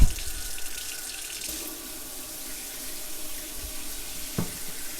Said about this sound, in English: So I'm just going to put the coldest tap water in my sink.